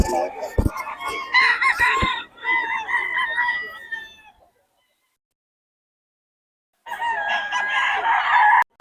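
Bull stag rooster at a festival expo crowing loudly and clucking up close, a few harsh calls followed by a silent gap, then another loud crow.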